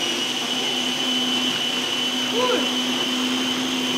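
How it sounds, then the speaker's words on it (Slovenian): A powerful kitchen blender runs on its third speed setting, mixing baby food with a steady loud whirring drone, while a voice speaks faintly in the background. "pa je zelo močni mešalnik"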